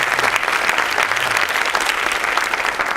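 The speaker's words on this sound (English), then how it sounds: "please join me in welcoming him with a round of applause" A round of applause from a conference audience welcoming a keynote speaker, steady dense clapping at moderate loudness, sustained for the whole stretch.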